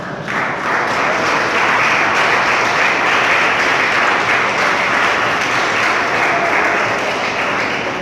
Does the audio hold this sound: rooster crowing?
no